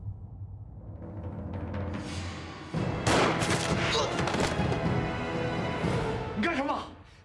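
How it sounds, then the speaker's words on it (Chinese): Gunfire in an anti-Japanese war film: loud, rapid shots burst out partway through over a low rumble and continue in a dense volley, with voices mixed in. "你为什么要开枪？"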